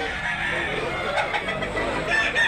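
Big yellow-legged chickens at a Cebu poultry market cluck and crow amid a steady crowded murmur, with people talking throughout.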